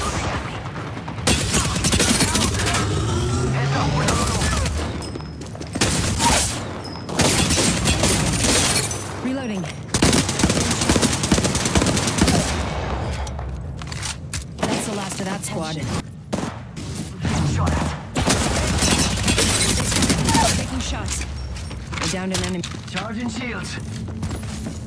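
Rapid bursts of Devotion energy-rifle fire in an Apex Legends-style shooter, crackling in long stuttering volleys with brief gaps, loud and close, mixed with other in-game effects throughout.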